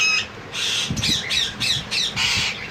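Parrot chick squawking while being hand-fed, a run of loud, harsh, close squawks in quick succession with brief gaps between them.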